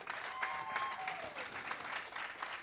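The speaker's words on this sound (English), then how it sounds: "Clap it up for Stephanie." A small live podcast audience applauds, a brief, fairly faint patter of clapping from a modest group, heard alone without talk.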